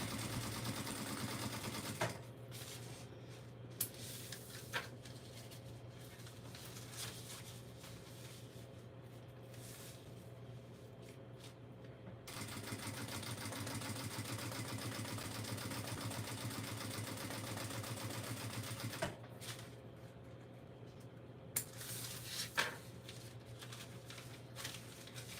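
Sewing machine top-stitching ripstop fabric runs at a steady whirring hum in long stretches, pausing briefly with small clicks and clacks between runs.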